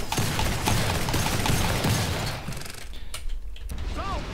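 Rapid gunfire from a weapon in the shooter game Killing Floor 2 rattles off in a dense, loud burst of shots, then tapers into a few mechanical clicks and creaks.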